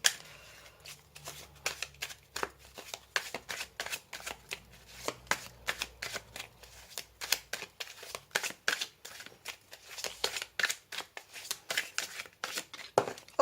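Tarot cards are shuffled by hand in a near, steady run of crisp riffling and snapping bursts that repeat through most of the stretch, with no talking over them.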